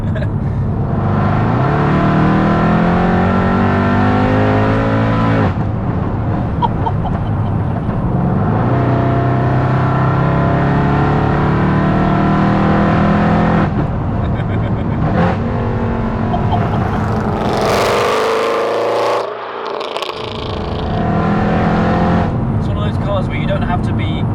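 A supercharged 6.2-litre V8 Mercedes C63 AMG engine revving loudly up and down with a deep rumbling exhaust, close by, while voices talk over it.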